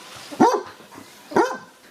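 Dogs housed at a public pound bark twice, with two sharp, fairly close barks about a second apart and a faint whimpering murmur between them.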